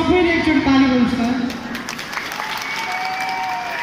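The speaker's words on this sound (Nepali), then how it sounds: "अनि सबैले एकचोटि ताली बोल्छ त" Audience applause at a live Dohori song event, a broad wash of clapping that follows a voice with musical tones and continues steady and fairly loud.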